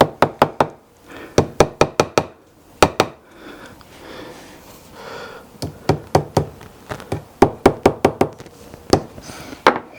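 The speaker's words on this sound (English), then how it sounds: "so what I'll do is I'll just put the fret in here to where I know it's going to be about where I want" A guitar fret is knocked into its fretboard slot with quick bursts of sharp, close tapping hammer blows, several in rapid rhythm, separated by brief quieter pauses.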